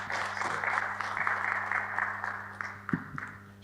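An event audience claps for Vinícius, a Unitel Money sponsor representative, the dense applause fairly close and steady, thinning toward the end with a few separate louder claps over a low background hum.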